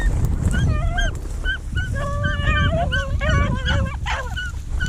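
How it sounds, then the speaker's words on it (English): Hunting dog on a rabbit hunt whimpers and yips in rapid, excited bursts, with a quick run of high barks building in the middle, close and loud over wind and outdoor rumble. "Is that what that dog over there doing?"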